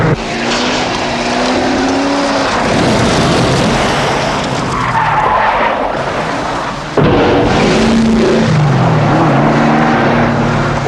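A car drives at speed with loud, steady road and engine roar throughout, a brief dip near the middle and a sharp jump back in level, with possible tire skidding sounds.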